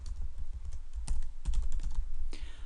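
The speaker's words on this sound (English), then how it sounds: "I'm just going to type in a few names" Fingers type on a computer keyboard in a quick, uneven run of close clicking keystrokes with a few heavier taps, with no speech over it.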